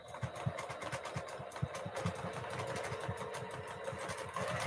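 Sewing machine stitching feather quilting designs, a rapid regular mechanical chatter of needle strokes at a fairly quiet level, running continuously.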